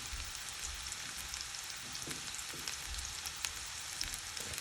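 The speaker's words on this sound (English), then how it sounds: "And put in our garlic cloves and our ginger. And you're going to let this saute until it becomes brown everywhere" Garlic cloves and ginger sauté in a pan for everyday dal, a continuous close crackling sizzle with scattered pops and a few soft stirring knocks, no voices.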